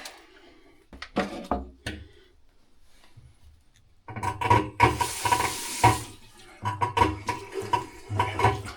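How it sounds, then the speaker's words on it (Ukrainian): Water runs from a sink tap in a bathroom during plumbing repair work. Short bursts and knocks come first, then a louder splashing flow that starts and stops in uneven spurts. "відкривайте воду."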